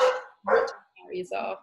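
A dog barks several times close by indoors, short loud bursts alternating with and overlapping a person talking.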